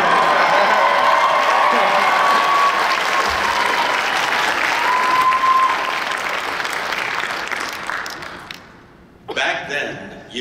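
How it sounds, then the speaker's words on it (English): A comic convention panel audience applauds and cheers loudly in a sustained roar of clapping that fades after several seconds, followed by a brief burst of close sound and movement. "Oh, I get applause for being gay."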